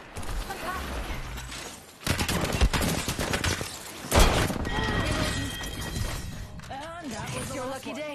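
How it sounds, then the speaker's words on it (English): Rapid gunfire bursts in the battle royale game Apex Legends, loud and dense with sharp shatter-like impacts and mechanical clatter, a voice speaking over parts of the fight. "Enemies are shooting at me."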